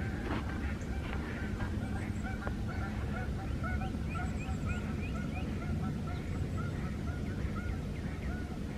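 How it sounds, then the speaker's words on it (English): Geese honk repeatedly on a March morning in Jefferson Memorial Forest. The calls come in irregular bursts, moderately distant, over a steady outdoor background. "keep hearing the other geese in the background"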